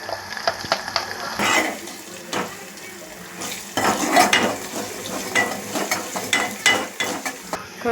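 Tempering seeds and onions crackle and sizzle in hot oil for bodakakarakaya (spiny gourd) curry, with sharp pops, a spoon scraping and stirring the pan, and bursts of louder frying rising in waves, close and alone without talk.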